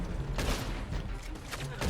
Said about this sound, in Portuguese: Tô tomando tiro ainda.